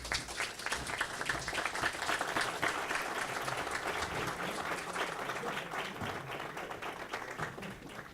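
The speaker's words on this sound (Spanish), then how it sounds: "recibimos con un fuerte aplauso a Christian Helge." Sustained, dense applause from a large crowd at a book launch in Peru, steady and loud throughout with no talking over it.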